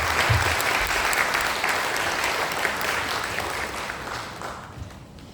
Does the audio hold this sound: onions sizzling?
no